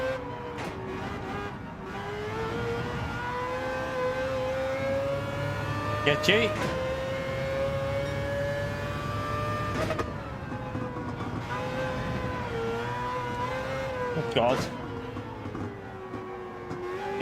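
A race car in Gran Turismo 7, running on hard tyres, holds a loud sustained engine whine with gear-change pitch shifts and brief surges, while a voice talks over it intermittently.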